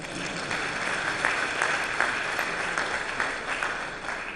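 Delegates at the Dakar peace and security forum applaud together, a moderate, sustained crowd clapping with a roomy, slightly distant feel and no speech over it.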